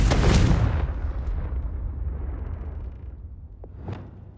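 A Confringo blasting spell detonating in Hogwarts Legacy: one heavy, booming explosion up front that rumbles and decays over a few seconds, followed by a couple of small sharp pops.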